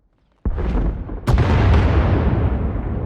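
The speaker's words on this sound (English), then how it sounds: "Sounds like the bombing's getting closer." A sudden deep explosion from bombing in Star Wars: The Old Republic bursts out, followed moments later by a second sharp blast, leaving a rolling, rumbling roar that lingers.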